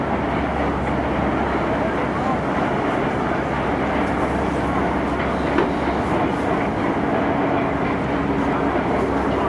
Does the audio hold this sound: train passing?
yes